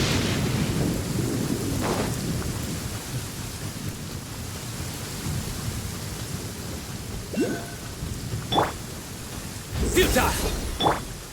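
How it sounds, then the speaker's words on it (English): Thunder rolls through a video game storm scene, with low rumbling over steady rain and a few sharper cracks near the end, heard alone at moderate loudness. "The thunder rumbles."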